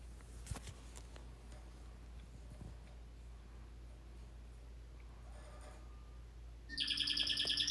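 Bright, rapid chirping birdsong from pet birds bursts in near the end, loud and close, after several seconds of quiet room tone with a few faint ticks.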